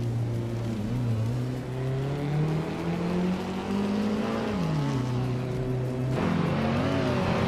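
Race cars roaring around a track in a racing game, engines droning and shifting pitch steadily as they accelerate, with a sharper rise in revs near the end.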